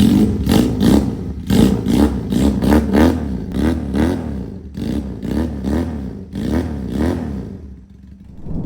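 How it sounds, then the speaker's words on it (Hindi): A Kawasaki Ninja replica motorcycle, a cold-started Pakistani-market heavy bike, is revved repeatedly up close, each loud throttle blip rising and falling in a rhythmic series before settling toward idle. "स्टार्ट करते हैं जी, बाइक को कोल्ड स्टार्ट है।"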